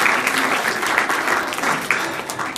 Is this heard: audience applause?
yes